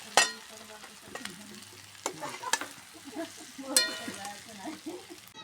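Potato filling for samosas stirred and fried in a pan, with irregular scraping strokes of a utensil over a low sizzle, a few sharper clinks standing out.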